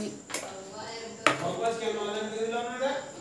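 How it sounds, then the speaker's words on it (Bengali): A knife chops onion on a cutting board in a home kitchen, with two sharp, close knocks followed by a steady voice speaking over the work. "পেঁয়াজ কুচিয়ে দিই"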